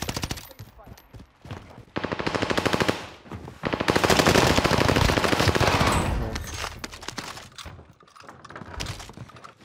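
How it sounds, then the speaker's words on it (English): Sustained automatic gunfire from an AK-47 in Call of Duty Warzone on the Caldera map, loud dense bursts with brief gaps, swelling into a long continuous volley mid-clip before tapering to scattered shots. "Taking heavy fire here."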